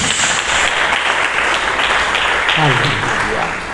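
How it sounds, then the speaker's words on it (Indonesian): Church congregation applauding during an Indonesian worship service, a loud, sustained mass of clapping with cheering or a voice rising briefly near the end. "Berikan tepuk tangan bagi Yesus."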